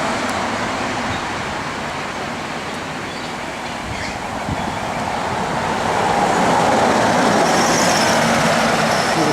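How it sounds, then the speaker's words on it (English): A city bus rumbles along the O-Bahn guided busway in Adelaide near Park Terrace, a steady broadband roar that builds slightly louder as it passes, with no talking. "With a city bus going up to the slip lane alongside Park Terrace."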